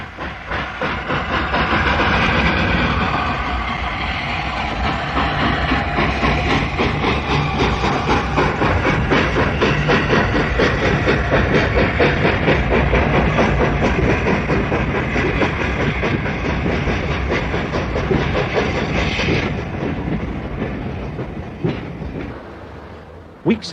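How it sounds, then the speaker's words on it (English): A steam train on the Great Central Railway pulls slowly away with a Class 31 diesel pushing from behind, giving a dense, continuous rumble and hiss with rhythmic wheel clatter that holds steady, then eases toward the end. "the Class 31 diesel pushed from behind, and the train slowly moved."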